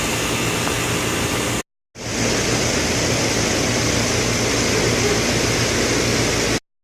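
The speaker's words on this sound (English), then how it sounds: "You can hear the fan running, the compressor just hit it." A residential air conditioner's fan and compressor run with a steady, loud broadband whoosh after a capacitor replacement, cutting out briefly near the start before resuming at full strength.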